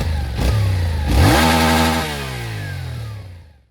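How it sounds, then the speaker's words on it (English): A Yamaha Tenere 700 motorcycle on its stock exhaust revs up, with the pitch rising and then falling as it idles down. The engine is loud and close, and it fades out at the end. "I think the bike sounds great in stock form"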